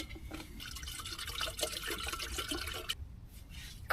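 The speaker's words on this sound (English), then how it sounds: "let's pop some water in" Water poured into a kettle at a campsite, a steady hissing splash that runs for about three seconds and then cuts off, followed by faint drips and rustling.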